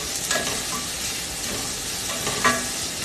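Vegetables sautéing in a pan for a vegetable biryani, a steady soft sizzle with a couple of brief scraping stirs, close and moderately quiet, no voices.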